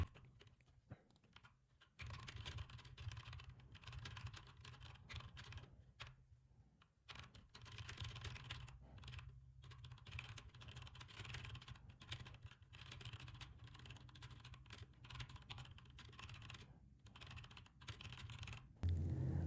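Steady clatter of keys typed on a computer keyboard during an online typing race, a continuous run of quick, close keystrokes with a few short pauses.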